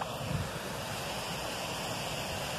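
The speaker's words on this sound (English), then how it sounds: "So that's the waterfall there." Waterfall on the Elsecar to Hemingfield canal near Barnsley: a steady broadband rush of falling water, continuous and even, moderately distant with some wind.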